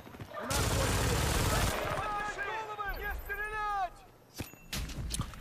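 Rapid gunfire bursts in the Battlefield: Bad Company 2 multiplayer map Laguna, a loud crackling fusillade followed by scattered shots and mechanical clatter, with in-game voices sounding over the firing.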